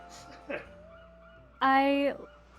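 Seagull in the Paper Mario video game gives a loud, wobbly honking squawk lasting about half a second, preceded by fainter game sounds and a brief tone.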